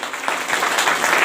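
An audience claps in sustained, dense applause at a celebration event for a leader, loud and continuous throughout.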